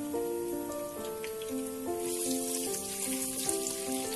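Onions sizzling in a pan for tandoori chicken dum biryani, a steady soft crackle running under a melodic music track with clear sustained notes.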